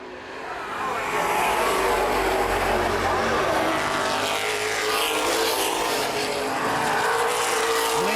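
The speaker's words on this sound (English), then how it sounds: "Lead lap cars closing in quickly as they work around the slower car of Goodman." Late model race cars roar around Baer Field Speedway during a 2011 feature race. A loud, continuous engine drone builds in the first second, with pitch sweeping as cars close in and pass a slower car.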